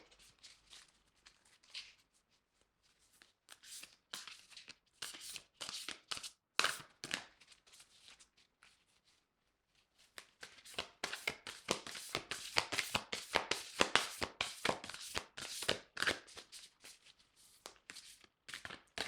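Oracle cards are shuffled by hand for a tarot reading in rapid riffling bursts with papery slaps, a short pause partway, then a long dense stretch of close, crisp shuffling.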